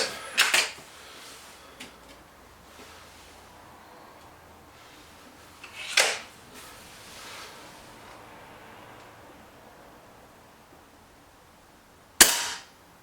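Air rifle shots from a BSA Lightning SE and a Webley Xocet come as three sharp, separate cracks several seconds apart, each with a short tail, over quiet outdoor background.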